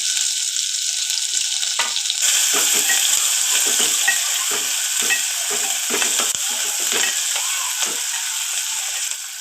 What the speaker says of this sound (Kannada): ಸ್ವಲ್ಪ ಕೆಂಪಗಾಗೋರಿಗೆ ಹುರ್ಕೋಬೇಕು